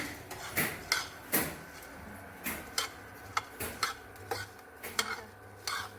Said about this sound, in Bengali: ওখানে মুড়ি ভাজছি।